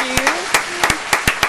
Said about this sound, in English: I got to give claps for that first of all